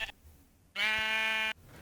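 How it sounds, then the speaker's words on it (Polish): Sheep bleating in the video game Minecraft, a single harmonic bleat lasting under a second, loud and close, with quiet gaps on either side. "Ej, ty owca, owca, owca, owca, owca."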